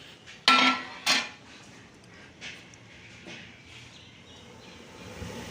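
Rice for gur chawal is mixed in a large cooking pot, starting with two loud metallic clanks close by, followed by quieter scraping and soft knocks of the utensil against the pot, with no speech.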